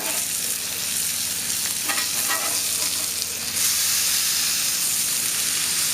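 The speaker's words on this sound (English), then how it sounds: "Let that cheese melt. And we'll have some awesome smash burgers once these are done" Cheese-topped smash burgers sizzle and hiss continuously on a Blackstone Adventure Ready 17-inch tabletop portable griddle, a close, steady frying crackle that swells slightly louder partway through.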